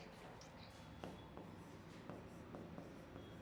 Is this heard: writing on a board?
yes